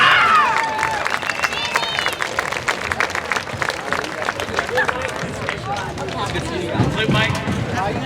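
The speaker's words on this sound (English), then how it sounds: "Let's give them a round of applause." Crowd applause and some cheering from an audience at a marching band premier, broad clapping under background chatter, fading toward the end.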